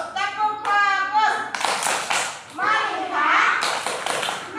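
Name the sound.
children's rhythmic focus clap (tepuk fokus) in class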